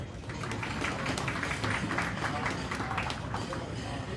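Applause at a multicultural gala in Sydney, a steady dense wash of clapping from a large audience that holds evenly throughout, with voices mixed in.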